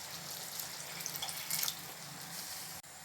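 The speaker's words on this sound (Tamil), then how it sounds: "இந்த டைமில் கொஞ்சமாக தண்ணி சேர்த்து குக் ஆகி வரட்டும்." Water poured from a tap or jug into a pan of cauliflower masala as it cooks, a steady splashing flow with small bright spatters, ending abruptly near the end.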